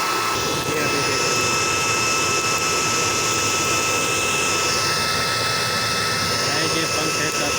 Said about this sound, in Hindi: ये पंखा डीसी वोल्ट के ऊपर चलता है